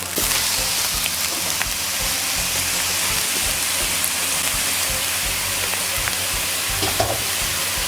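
Glass noodles stir-fried in a hot pan give a loud, steady hissing sizzle with occasional scraping and tossing knocks, continuous throughout and with no speech.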